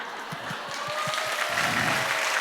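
Audience applause at a church sermon, a steady wash of clapping that swells slightly over a couple of seconds with a few low thumps at the start.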